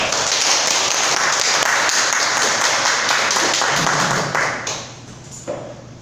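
Dense, steady applause from an audience at a health lecture greeting a Korean medicine doctor, loud and continuous for several seconds before thinning out and fading near the end.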